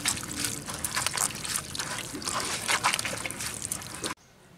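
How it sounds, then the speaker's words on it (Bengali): Grated potato is swished and rinsed in a bowl of water, with close sloshing and trickling splashes in irregular bursts that stop abruptly near the end. "এখন এই গ্রেট করা আলুটাকে খুব ভালো করে ধুয়ে নেওয়া হচ্ছে বারবার জল পাল্টিয়ে।"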